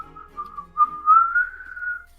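A person whistles to imitate wind whistling in the ear, a thin, wavering tone that sputters briefly, then glides upward into a steady sustained note, close and clear with no talk.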